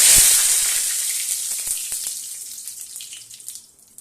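Whole cumin seeds and two bay leaves hit hot oil as the tempering for a paneer kofta curry, giving a loud hissing sizzle that bursts up at once and slowly fades, with a few faint crackles and pops.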